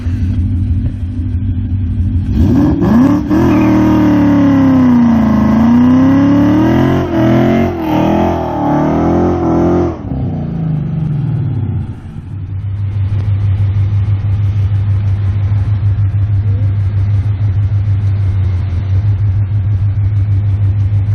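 A car with traction control switched off revs hard at high RPM, the engine note climbing and wavering loudly for several seconds before dropping back to a steady, rumbling idle.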